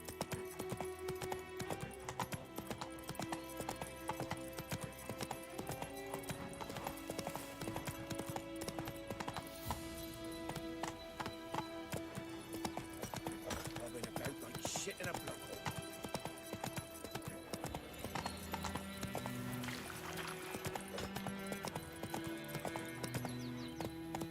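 A horse gallops with rapid, rhythmic hoofbeats in The Witcher 3, the clip-clop running steadily throughout beneath a voice and background music.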